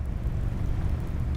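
Heavy rain pours down during a storm near a wildfire burn scar, a dense, steady low roar with no distinct drops or pauses and no voices.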